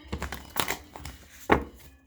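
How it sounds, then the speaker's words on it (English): Tarot cards are shuffled by hand in a short burst of papery riffles and crinkly slaps, with several distinct bursts spaced irregularly, close and moderately loud, with no voice. "as I'm shuffling through these cards"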